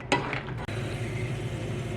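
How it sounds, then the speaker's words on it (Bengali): Dry fruits fry lightly in hot oil, giving a soft continuous sizzle under a brief scrape of a spoon stirring the pan at the start. "ড্রাই ফ্রুটসগুলোকে এবারে 1-2 মিনিট একটু হালকা করে আমরা ভেজে নেব।"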